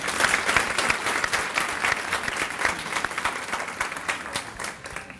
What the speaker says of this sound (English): I'd like to give all of our grant recipients or our awardees another round of applause.